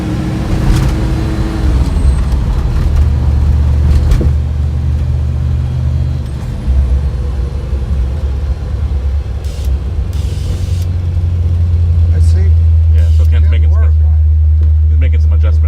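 A 1957 Chevrolet Bel-Air on airbag suspension driving and shifting through the gears, a loud close engine drone with low rumbling tones that drop and climb between shifts, steady for the whole stretch.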